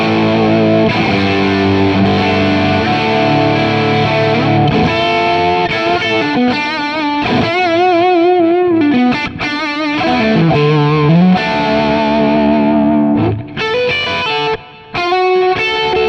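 An electric guitar through an AC30 amp profile on a Kemper, pushed by an OD2 overdrive at around seven on the dial, plays a loud, driven lead of sustained bends and held chords, ending in a few clipped stops.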